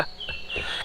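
Birds chirping outdoors in rural France, short high twittering calls repeating over a soft background, fairly close.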